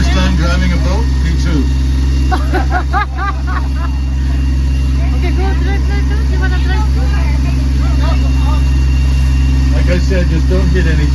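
A steady low engine drone of a motorboat runs throughout, with voices chattering over the top.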